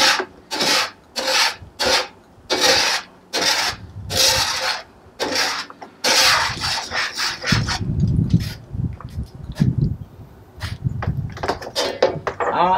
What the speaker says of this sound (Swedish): Då skrapar vi ner det här goda som är från sidorna